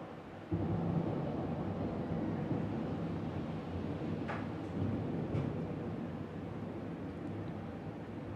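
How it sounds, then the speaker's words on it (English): Thunder rolls as a low, steady rumble that starts abruptly and sustains throughout at a moderate distance, with a couple of faint sharp crackles partway through. "There's the thunder."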